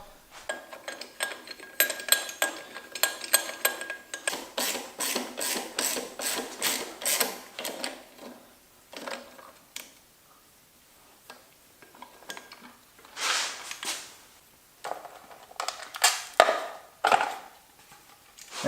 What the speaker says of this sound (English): So this crank pulley has to come off.